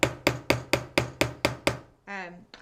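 A metal hammer strikes a dapping punch on a jewelry tube rivet about eight times in a steady, even rhythm, each blow a sharp close tap that rings briefly. A short voice sound follows at the end.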